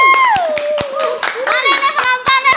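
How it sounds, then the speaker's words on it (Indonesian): Several sharp hand claps ring out at an uneven pace while a voice talks over them, close and loud. "Tepuk tangan dulu dong."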